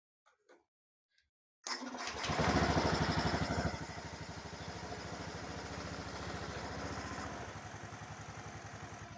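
A few faint clicks, then a fuel-injected motorcycle engine with new exhaust catches and revs up before settling into a steady, rattling idle that runs continuously.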